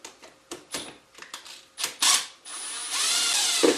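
A hand ratchet with a 7/16 socket backs out solenoid bolts on a Yamaha Grizzly 450 ATV, giving quick bursts of close, crisp clicking separated by brief gaps, ending in a longer scraping turn.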